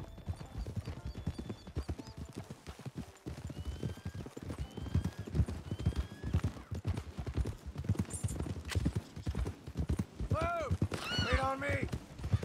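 Horses' hooves clip-clop steadily in Red Dead Redemption 2, a continuous rhythmic trot with a horse whinnying near the end.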